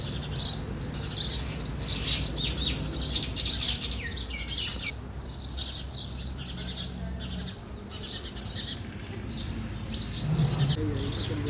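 Many sparrows chirp busily and continuously at a beach resort in Diu, a bright chorus of overlapping tweets over a low background rumble, with a brief voice near the end.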